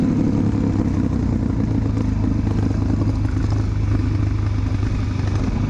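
A Suzuki DR-Z400SM supermoto motorcycle engine runs steadily throughout, a continuous mid-pitched rumble with light mechanical clatter, close and loud, with no talking.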